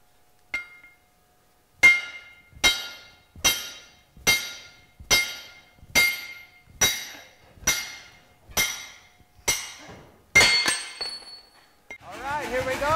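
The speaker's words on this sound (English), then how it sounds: "We'll try it under the power hammer and see what happens." A power hammer pounds hot metal while an Inconel axe drift is driven through an axe head: about a dozen sharp, evenly spaced blows ring out at a steady pace, followed by a brief voice and clatter at the end.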